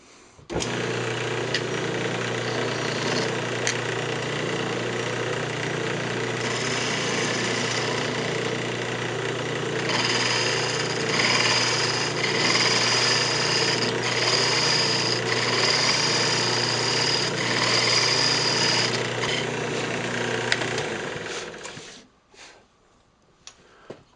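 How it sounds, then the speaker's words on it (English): A spindle gouge cleans up the face of a yew box spinning on a wood lathe, a steady loud drone of motor and scraping cut that runs continuously for about twenty seconds, then stops, leaving a few small knocks. "Now we'll just clean up the face. And for that, I'm just going to use the spindle gouge again."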